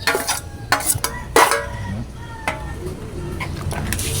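Fish kinilaw with ginger, tomato and onion being stirred in a bowl, a series of close clinks and wet scrapes in an uneven rhythm, with a voice talking briefly.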